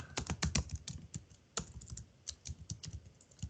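Keys clack on a computer keyboard while text is entered in the vi editor on a Linux system, a quick, uneven run of close, crisp taps with brief pauses.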